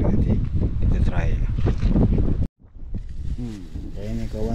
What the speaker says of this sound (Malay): Angin pun kuat juga ni kat belah darat.